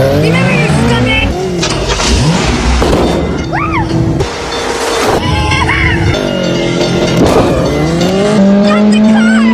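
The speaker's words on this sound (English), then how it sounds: "irginia becomes hysterical as Greg speeds forward and drives across the bridge" A car speeds forward across a bridge in a horror movie, tires squealing. The engine roars loudly and steadily while the tires give high whining squeals, mixed with voices and dramatic film sound.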